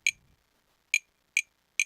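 A programmed clap sample in music production software plays four short, crisp hits, one alone and then three in quick, evenly spaced succession, quiet and dry with no talking.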